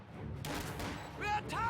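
Rapid gunfire from video game riflemen chasing off a squad of pioneers, a steady battle din with sharp bursts and whistling tones toward the end, under light voices.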